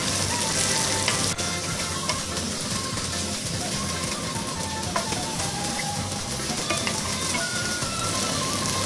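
Green chili, coriander and stock added to pork frying in a pan, giving a loud, continuous close sizzle with occasional stirring scrapes and clinks.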